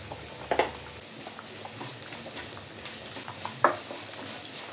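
Onions sautéing with turmeric powder in a pan, a soft, steady sizzle with occasional stirring scrapes and a couple of sharper clinks, fairly quiet and close, no talking.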